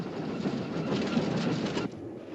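A train runs on rails with a dense, continuous rumble and rattle of carriages, close and fairly loud, then dips slightly near the end; no voices.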